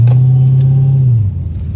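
A Dodge Challenger Hellcat Redeye accelerates hard with a deep, loud, close engine rumble whose pitch drops sharply near the end, as at a gear change.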